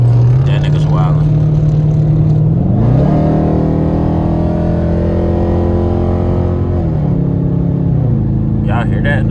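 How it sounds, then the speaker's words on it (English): A car engine revs loudly with an audible intake roar, the pitch climbing, holding, then dropping, with people talking over it. "The intake be making some noise, I swear it do."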